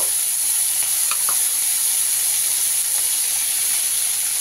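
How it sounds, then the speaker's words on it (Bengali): A steady, loud hiss of prawns frying in hot oil in a wok, continuous throughout with a few faint clinks. "চিংড়ি মাছগুলো আমি সুন্দর করে লাল লাল করে ভেজে নেব।"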